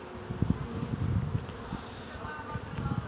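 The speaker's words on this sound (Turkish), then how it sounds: "burada hemen yakınımda 5 kovan arım var" Honey bees hum and buzz close by around five nearby beehives in an apiary, a faint, wavering drone with small rises and dips and a little wind over the microphone.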